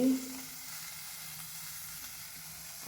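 Onions sizzle in a pan in a village kitchen, a steady, soft hiss that carries on alone after a brief louder burst at the start.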